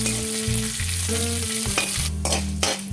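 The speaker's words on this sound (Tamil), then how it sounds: "போட்டதுக்கு அப்புறமா இதை நல்லா செவக்க வறுத்துக்கலாம்" Urad dal, chana dal, chili and curry leaves fry in hot oil in a pan, a continuous loud sizzle close up with stirring scrapes and a hum underneath, no voices.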